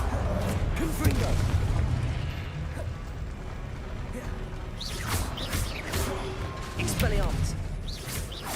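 Booming blasts from the Confringo fire spell in the video game Hogwarts Legacy, several loud, sharp explosive bursts spaced about a second apart over continuous game noise, with a voice talking in between.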